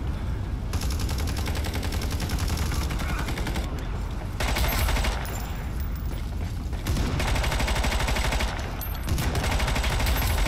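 Sustained automatic gunfire from a gun in the online shooter Ironsight, loud dense bursts running almost continuously with only brief gaps, no talk over it.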